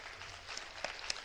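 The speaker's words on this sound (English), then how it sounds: "Please, can you stand and receive a round of applause?" Audience applause at a university book launch, a soft, distant patter of many hands with a few sharper individual claps standing out near the end.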